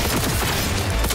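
Rapid three-round bursts of gunfire from a weapon in the Cyberpunk 2077 Phantom Liberty expansion, loud and dense throughout the short stretch with continuous combat noise.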